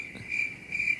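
Crickets chirp steadily in a continuous shrill trill, pulsing slightly louder twice, alone against faint background noise.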